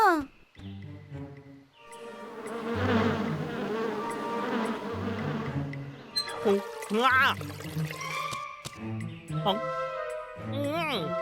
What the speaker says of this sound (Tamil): இந்த தேனீக்கள் எல்லாமே லக்காவோட வீட்டுல இருந்தா வந்திருக்கு